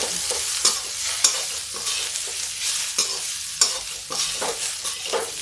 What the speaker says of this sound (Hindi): ये आलू थोड़ा फ्राई कर लेते हैं, थोड़ा प्याज भी डाल दिया है